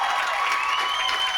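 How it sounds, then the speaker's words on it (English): A crowd at a high school football game applauds and cheers in a continuous, bright roar of clapping and voices, steady and fairly loud throughout the short stretch. "And you can hear the crowd here."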